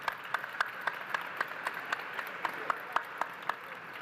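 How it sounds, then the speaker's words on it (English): An audience at a leadership forum gives a round of applause, with light, sparse clapping and a few louder individual claps spread through a thin crowd, with no voices. "Round of applause."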